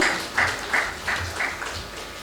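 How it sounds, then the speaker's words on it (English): Soft, rhythmic clapping rises in steady bursts from the audience in a summit hall, applauding the chief guest at the opening session. It stays fairly faint and even from start to finish. "Can we have a round of applause for sir?"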